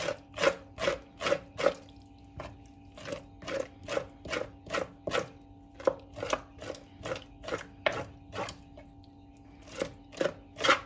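Stuffed intestines being turned and rinsed under a running tap in a kitchen, with a steady run of short, sharp wet slaps and knocks against a faint background of flowing water.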